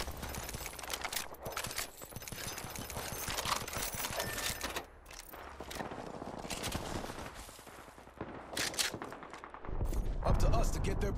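Rapid gunfire from an Apex Legends firefight rattles almost continuously, in dense bursts of shots with clattering impacts layered beneath, loud and close throughout, with a surge near the end.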